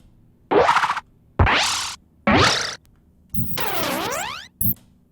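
A run of punchy swooshing strikes with springy, rising tones, ending in a zapping sweep and a quick final hit; synthetic game-style attack effects, no voices.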